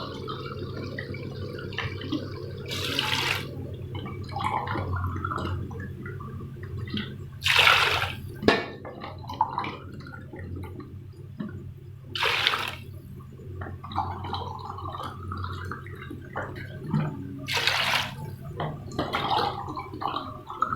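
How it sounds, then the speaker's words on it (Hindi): Water is poured into a pot for kaleji puta biryani rice, coming in several separate splashing pours spread across the stretch, each a brief gush over a low kitchen background hum, with no talking. "तो अब इसमें डाल दूँगी पानी।"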